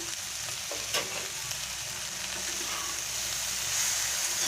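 Okra (bhendi) frying in a pan with chili powder as it is stirred, a steady moderate sizzle with occasional clicks of the spoon against the pan; no talk.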